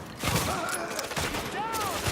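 Gunfire in The Division video game crackles as a continuous fusillade of rapid shots, loud and close, with game voices and music under it.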